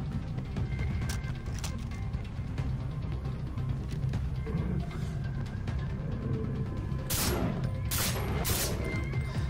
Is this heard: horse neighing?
no